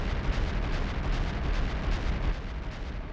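An airship blown apart in Trails of Cold Steel: a dense, sustained roaring explosion rumble, loud and continuous with a heavy low-end that barely dips across the whole stretch.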